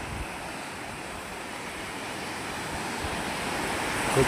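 Coastal sea waves rush against a seawall on the Konkan shore, a continuous broad wash of surf with some wind, swelling slightly louder toward the end; no voices.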